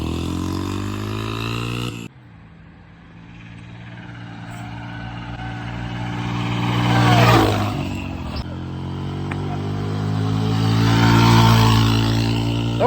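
A dirt bike fitted with an oversized rear sprocket roars past in second gear, its engine note steady at first, then swelling loudly as it nears, fading slightly and building again in a second close pass.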